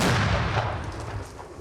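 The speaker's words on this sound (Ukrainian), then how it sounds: "І знову Постріл!" A heavy, booming mortar blast opens loud and close, its low rumble rolling and fading over the next second or so, with no voices.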